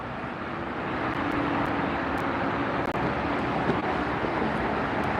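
Norse Airlines Boeing Dreamliner airliner arriving at Los Angeles International Airport, a steady broadband jet roar heard from a distance, constant and unbroken throughout.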